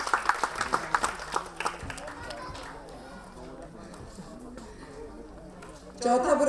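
An audience at an award ceremony claps and cheers briefly, then the applause fades into a low murmuring crowd, with a voice speaking over the room near the end.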